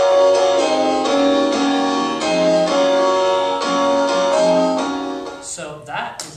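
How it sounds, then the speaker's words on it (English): Chopped piano sample from a house music single, repeating chords in a steady rhythm for about five seconds, then cut off into brief noisy fragments. "has this piano sample that goes like this"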